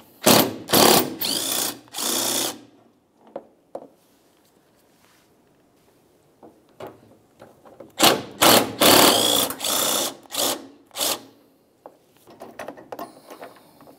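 Close ratchet clicking while two 10mm headlamp assembly bolts come out, heard in short bursts of rapid clicks separated by quiet gaps and light handling noise.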